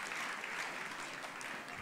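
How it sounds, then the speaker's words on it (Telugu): A crowd applauds loudly and continuously at a public event, congratulating a student certified in a course, with dense sustained clapping from start to finish. "గట్టిగా చప్పట్లు కొట్టి అభినందించండి"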